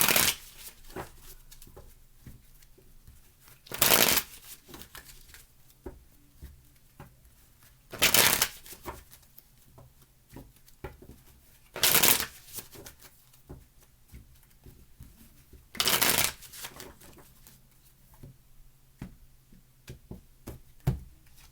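Tarot cards shuffled by hand, four separate riffle shuffles spaced about four seconds apart, each a short loud burst of crisp fluttering card snaps, close to the microphone, with quiet pauses between them.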